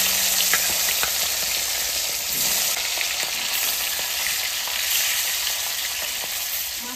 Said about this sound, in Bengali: তেল আমার গরম হয়ে গেছে, এবার আমি মাছটা ভালো করে এপিট ওপিট করে আমি ভেজে নেব